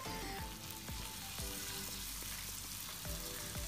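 Mixed vegetables for pasta noodles fry in a pan under a dense, steady crackling sizzle, with a few soft utensil taps and scrapes in the background, close and even in level.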